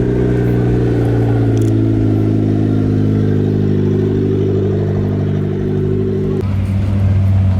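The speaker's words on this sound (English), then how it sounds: "There's a line of cars rolling in." A steady line of cars rolls into a car meet, several engines droning and rumbling together up close in a continuous loud mass, with a brief change in tone near the end as one vehicle passes.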